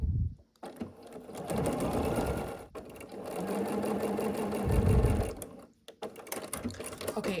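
Sewing machine sewing small fabric squares onto the corners of a table runner, a close steady whirring hum in several runs separated by brief pauses.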